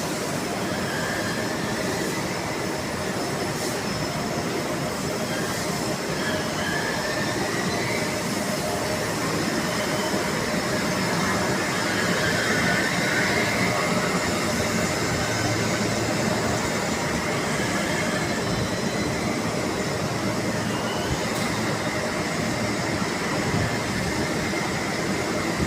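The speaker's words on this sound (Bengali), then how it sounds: "এদিকে মেশিনগুলো রানিং" Denim dyeing machines running on a crowded textile factory floor produce a dense, continuous mechanical roar with high metallic squeal-like tones, steady and loud throughout with no speech.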